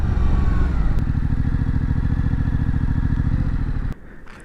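A 2021 Yamaha MT-07 in Race Blue idles loud and close with a steady, throbbing mid-range thrum, then cuts off abruptly near the end, leaving only faint background noise.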